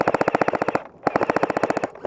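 Airsoft gun firing full-auto in a deathmatch game at The Garrison, Aldershot, two rapid bursts of sharp rhythmic clacks close by, separated by a brief pause, with no talk.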